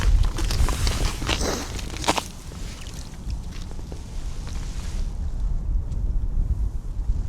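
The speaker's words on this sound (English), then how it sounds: "Definitely the wind. It's breezy today." Breezy wind gusting across an open frozen lake during ice fishing, a loud rumbling buffet on the microphone with shifting gusts throughout, stronger at first and then steady.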